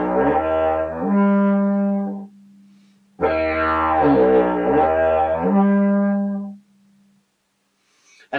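A didgeridoo drone exercise with the lips lowered to add drag, then pushed up toward a horn tone: two long, loud sustained drones with shifting overtones, separated by a short gap and ending in near silence.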